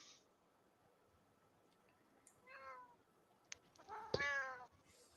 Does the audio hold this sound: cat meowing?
yes